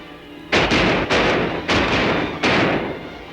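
Four loud, close gunshots from a 1955 western film, spaced irregularly over a few seconds, each a sharp blast with a short decaying tail.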